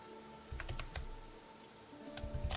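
Computer keyboard typing during a gaming session: two short bursts of quick, light key clicks, close and fairly quiet, separated by a pause, over a steady low background hum.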